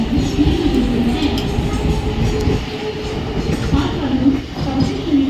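A Mumbai local train pulls into the Diva junction platform with a loud, steady rumble of rolling wheels and rail clatter that fills the whole stretch, with no voices over it.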